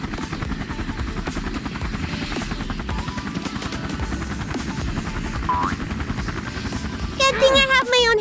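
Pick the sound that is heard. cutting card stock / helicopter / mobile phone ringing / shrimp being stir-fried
helicopter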